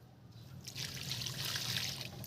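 Water poured onto a potted pomegranate plant after fertilizer is added, a steady trickling, splashing pour that starts soft and grows fuller, continuing close by with no talk.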